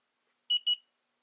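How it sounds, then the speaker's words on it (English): Two short high electronic beeps from a gel nail lamp timer signalling the end of a 30-second curing cycle, close and clear in an otherwise silent room. "that beeping means it's done"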